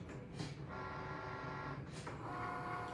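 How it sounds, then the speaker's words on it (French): A Cricut Maker cutting machine works on a print with a quiet mechanical whir, with brief carriage movements and soft motor tones at close range. "elle vérifie que c'est la bonne lame de découpe qui est installée sur ma Cricut Maker"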